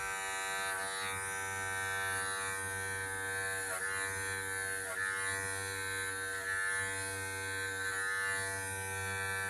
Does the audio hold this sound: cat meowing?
no